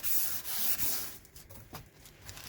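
Wire brush scrubbing burnt deposits off a cooktop hob, a close, raspy back-and-forth rubbing with uneven strokes that fades somewhat toward the end.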